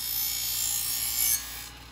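A knife is drawn lightly across a homemade sharpener to remove the burr, giving a soft, steady metallic rasp that stops abruptly partway through; quiet and close, with no voices.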